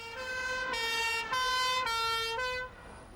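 An ambulance siren wails loudly and close, its tone switching between pitches several times in a steady electronic cycle before cutting off.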